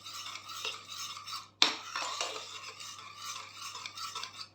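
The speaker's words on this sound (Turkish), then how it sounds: "Üzerine 1 çay bardağı da sıvı yağ ilave ediyorum ve karıştıracağım." Melted butter and vegetable oil stirred together in a bowl for flaky Turkish pastry dough: soft scraping and clinking strokes of a utensil, with one sharper knock partway through, close and alone.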